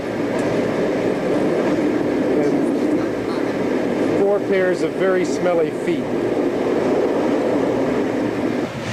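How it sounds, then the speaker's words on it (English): A night train rumbles and rattles steadily around a six-couchette cabin on a rough-riding route from Florence, with loud continuous clatter throughout and people talking over it midway. "This is the worst riding train we have been on so far."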